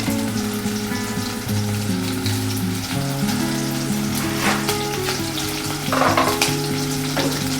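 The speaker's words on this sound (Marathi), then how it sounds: "तेलामध्ये आपण प्रथम कांदा टाकणार आहोत आणि तो चांगला सोनेरी रंग येईपर्यंत तळून घेणार आहोत" Chopped onion sizzles and crackles in very hot oil in a pan, frying toward golden for misal pav; a steady, close sizzle with occasional stirring and spoon scrapes throughout.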